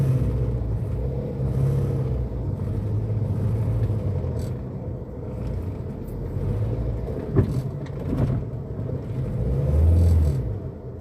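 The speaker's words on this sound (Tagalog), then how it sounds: "traffic ayan no. Daming sasakyan." Road traffic in Makati, a continuous low rumble of engines and passing vehicles with occasional brief knocks and a swell of engine noise near the end, steady and fairly loud with no talk.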